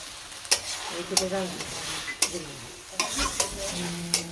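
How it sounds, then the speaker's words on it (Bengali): A spatula scrapes and stirs vegetable chachchari in a pan with sharp, irregular strokes over a low sizzle, close and fairly loud, with no talking. "একটু নাড়াচাড়া দিয়ে এই যে চচ্চড়ি কিছু করলাম"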